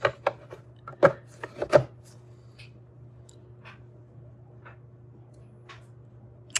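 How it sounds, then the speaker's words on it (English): Several sharp plastic clicks and snaps from a battery lid being pressed back into place, close and clustered in the first two seconds, then a low steady hum with a few faint ticks. "Go ahead, pop the lid back on."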